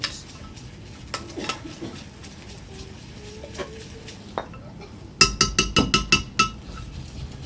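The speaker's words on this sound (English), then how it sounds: "Just pop it into the mortar and pestle, and we're just very gently anti-clockwise, grinding it up" Mortar and pestle grinding ingredients gently, heard as faint scrapes and taps against a soft kitchen background, followed by a quick run of sharper clinks near the end.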